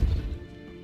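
A Depulso spell lands with a heavy crash in the Hogwarts Legacy video game: one loud, booming smash at the start that quickly fades into a low rumbling tail.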